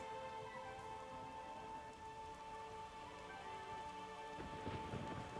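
Rain falls steadily in The Witcher 3 during a storm, a constant wash of hiss with low rumbling thunder swelling near the end, beneath a faint sustained musical drone.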